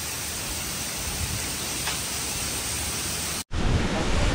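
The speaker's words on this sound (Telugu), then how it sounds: "బట్ వర్షం మాత్రం గట్టిగానే వస్తుంది." Heavy rain pours steadily outside a resort villa in the Maldives, a dense, loud, unbroken hiss that cuts out briefly near the end before resuming just as strongly.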